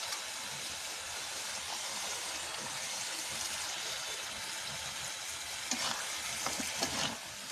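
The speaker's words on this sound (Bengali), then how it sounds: "এবার দিয়ে দিচ্ছি মাছ।" Fish frying in spicy, well-cooked masala makes a continuous broadband sizzle, with a few brief stirring scrapes near the end and no talking.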